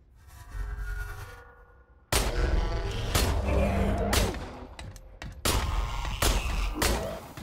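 Pistol gunfire in the first-person shooter INDUSTRIA, a series of loud, booming shots with heavy low-end thumps and reverberant tails spread over several seconds, over continuous game ambience.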